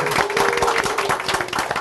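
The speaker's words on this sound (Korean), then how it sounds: "박수 부탁드리겠습니다." A studio audience at a Korean CEO talk show claps to welcome a guest. The applause is loud and close, a dense run of sharp claps throughout, with a faint steady tone beneath it.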